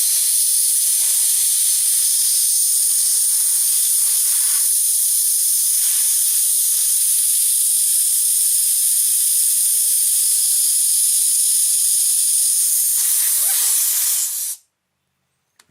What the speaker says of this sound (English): I'll get my air hose and blow that baby out there.